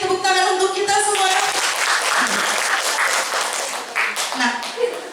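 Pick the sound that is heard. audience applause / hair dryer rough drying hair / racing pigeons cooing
audience applause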